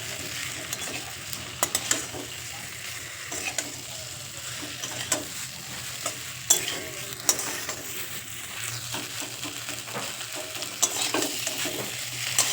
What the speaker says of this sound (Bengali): এই সময় ভেজে রাখা আলু আর ফুলকপিগুলো দিয়ে খুব ভালো করে মশলার সাথে মিশিয়ে নেব